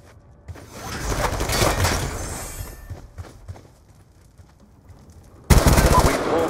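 Automatic sentry gun firing in Black Ops 2, a loud sustained burst of rapid gunfire with scattered shots after it, then a sudden sharp renewed volley near the end.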